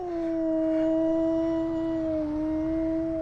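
A dog howls in one long, sustained, wavering call, loud and close, with faint outdoor background noise under it and no talking.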